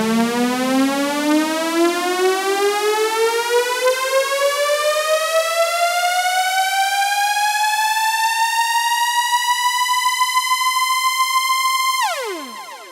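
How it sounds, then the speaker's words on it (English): A basic synthesizer pitch riser effect: one long sustained tone with rich harmonics that sweeps steadily upward for about twelve seconds, then drops sharply at the end, loud and alone with no talking. "the basic pitch riser effect sound."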